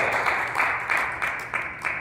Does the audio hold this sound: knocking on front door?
no